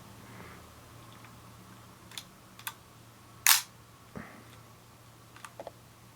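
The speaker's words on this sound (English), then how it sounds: "Move it back into the centre without the cable release to bring the shutter back up" A Nikon F2S film camera fires and resets its shutter: a sharp, loud mechanical snap stands out amid several lighter clicks and ticks of handling, close up in a quiet room with a faint steady hum.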